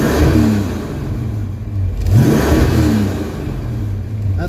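Ford Mustang engine with custom black tailpipes revving up to around 5,000 RPM, a loud close roar that climbs, drops back and rises again in two sweeping pulls, with no pops or backfire.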